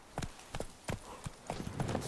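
Horse hooves clip-clop in The Witcher 3 video game, a steady run of about eight distinct hoofbeats sounding close and fairly loud, with no talk over them.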